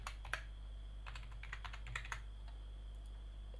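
Keys clack on a computer keyboard as a name and password are typed into a login window, a few quick bursts of soft taps with pauses between, close and quiet over a steady low hum, no voices.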